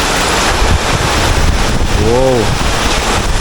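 Hurricane Beryl's winds roar through Kingston, Jamaica as a steady, loud gusting rush that buffets the microphone, with a man's brief startled exclamation partway through.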